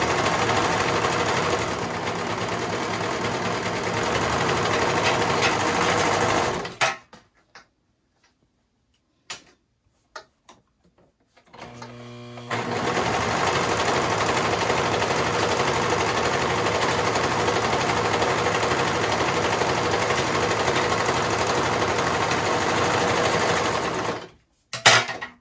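A sewing machine stitching a slouchy beanie hat after rethreading: a loud, steady whirring run for about seven seconds, a pause with a few faint clicks, then another long continuous run, stopping near the end with a short final burst.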